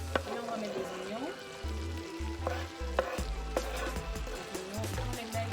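Onions hit a hot pan with shrimp and crackle in a steady, close sizzle, with scraping stirs and low knocks of the utensil against the pan throughout while a voice speaks over it.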